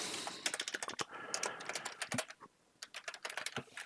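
Rapid, uneven keystrokes on a computer keyboard, close and fairly crisp, with short pauses between bursts of clicks and no talking.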